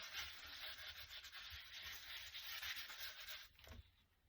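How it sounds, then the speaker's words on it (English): Hand-buffing of embossed card during a layered Joseph's coat craft technique gives a faint, steady rubbing, a continuous scratchy swish of repeated strokes, close by and without talk. "you want to buff up the embossing, try not to rub too hard on the open spaces"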